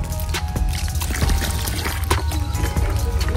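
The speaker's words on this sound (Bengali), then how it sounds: "এই বালতির থেকে ঢাল।" Water poured from a bucket into a small toy pond, a steady splashing pour with a few irregular sloshes, close and fairly loud throughout.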